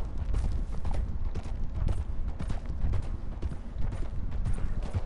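A horse's hooves pound steadily in Red Dead Redemption 2 Online, a dense, continuous galloping clatter, close and loud throughout.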